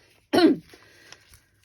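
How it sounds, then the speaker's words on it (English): A single sharp cough or throat-clear, close and loud, followed by near silence with faint room noise. "I need a cough"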